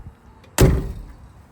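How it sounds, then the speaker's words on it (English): The door of a restored 1952 Ford F-1 pickup shuts with a single solid, close thunk after a moment of quiet, followed by a short fading resonance. "I'm gonna shut this door one more time for you."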